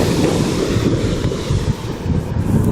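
Ocean waves wash onto a beach in a dense, continuous roar, with heavy wind buffeting the microphone.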